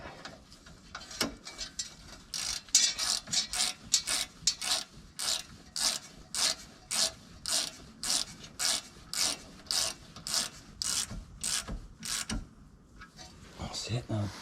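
A ratchet winds bolts on the rear wheel of a 2011 Mercedes during a wheel bearing change, giving a long series of regular rapid clicking bursts, close and fairly quiet, after a few scattered mechanical knocks at the start.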